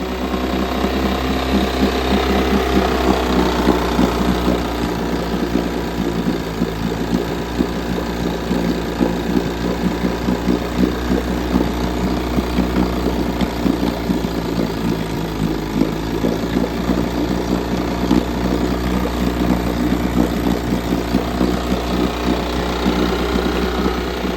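A 1956 Gale 5 HP Buccaneer outboard motor fitted with a rebuilt magneto runs continuously and loudly up close, its rapid, slightly uneven putter holding steady throughout with no talk over it.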